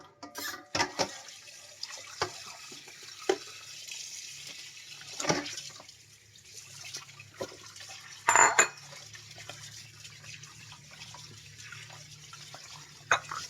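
Milkfish being rinsed in water while cooking sinigang, with light splashing, dripping and occasional clinks of a pot or utensils, plus a brief louder splash near the end.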